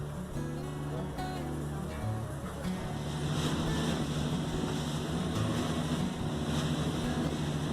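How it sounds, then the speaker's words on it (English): A two-story ferry boat crossing a lake produces a steady engine rumble with wind and water wash, continuous and close throughout. "you can ride this 2-story ferry boat all the way across the lake"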